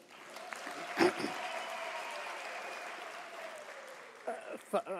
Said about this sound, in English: Can you give an applause to this institution?